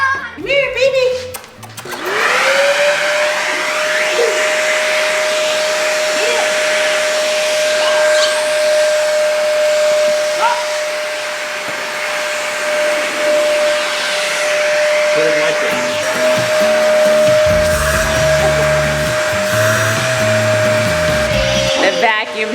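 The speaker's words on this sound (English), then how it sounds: "The vacuum scared the poop right out of the puppy." Household vacuum cleaner starting up and running loud and close with a steady whine, with thumps and scraping as it moves and brief clatter near the end.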